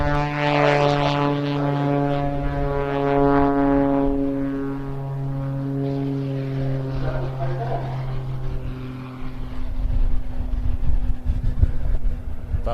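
A Pitts S2S aerobatic biplane with a modified Lycoming AEIO 540 engine and custom high-performance wing drones steadily at an air festival, its strong harmonic engine tone holding and shifting in pitch before giving way to rougher broadband noise.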